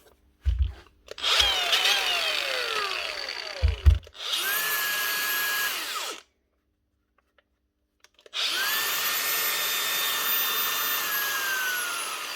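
A 2017 Makita power tool on a repair bench runs in three long bursts, a high whine spinning up and winding down each time, with a short gap of near silence between runs and some clunks before the first.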